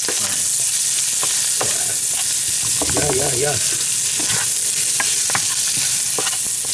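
Sea snails are stir-fried in a seasoning sauce over direct fire, with steady close sizzling and scraping stirs while a voice briefly calls out.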